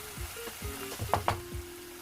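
Poppy seed paste and green chili paste sizzle in a frying pan while being stirred, with a few sharp spoon clinks against the pan over a continuous close hiss.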